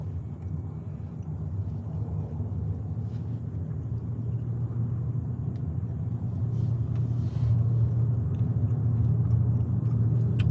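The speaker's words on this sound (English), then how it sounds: "traffic, traffic, traffic." Road traffic heard from inside a car driving toward Monroeville Mall near Pittsburgh: a steady low engine and tire rumble that swells slightly toward the end, continuous with no talk.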